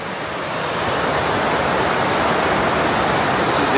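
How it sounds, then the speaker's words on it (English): Rushing water of the Urubamba River at Aguas Calientes, a steady, dense roar of flowing current that swells slightly and holds close and loud throughout, with no voices. "This is the Urubamba River in Aguas Calientes."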